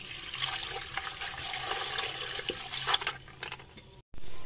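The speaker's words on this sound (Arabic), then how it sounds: "هنحط بقى كده معانا ميه" Water poured into a container for a cleaning mixture in a kitchen, a steady splashing rush close to the mic that stops abruptly near the end.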